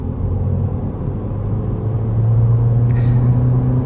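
A 2022 Honda Civic Hatchback with a CVT accelerates gently, a low steady engine drone that slowly swells louder, heard from inside the car with a brief faint click partway through.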